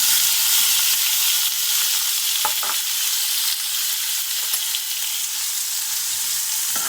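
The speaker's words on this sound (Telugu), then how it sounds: "ఆయిల్ హీట్ అయిపోయిందండి. కొంచెం జీలకర్ర వేసుకుంటున్నాను. ఆనియన్ వేసేస్తున్నానండి." Cumin and onion sizzle in hot oil in a pan, a loud, steady hiss with a few scraping stirs partway through, and no voices.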